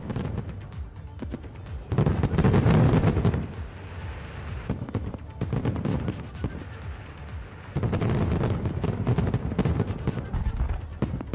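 Booming fireworks bursts and crackles ring out in loud waves over a festival in Varanasi, with a crowd murmuring underneath throughout.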